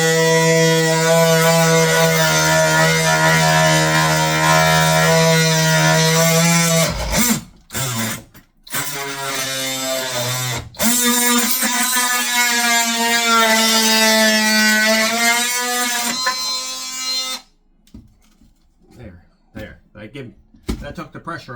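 An oscillating saw shaves wood behind tile during a backsplash installation under a window, giving a loud, steady buzzing whine broken by a few short pauses before stopping, with someone talking afterwards.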